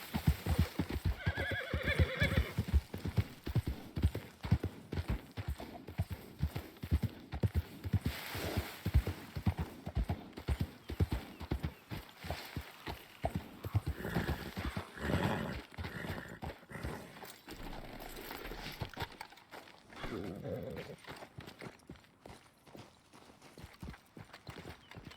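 Horse hooves clop at a gallop in the video game Red Dead Redemption 2, a continuous rhythmic drumming of beats with whinnies and snorts mixed in, fairly close and moderately loud.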